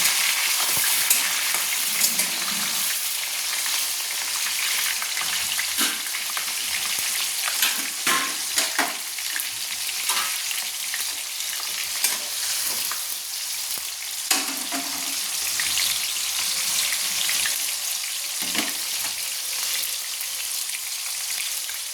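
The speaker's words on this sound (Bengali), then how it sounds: "টমেটোটাকে আমি একটু নেড়ে নিচ্ছি" Chopped tomato frying and being stirred in a pan for a mutton curry, a steady close sizzle with scattered scraping and clinking stir sounds throughout, no talking.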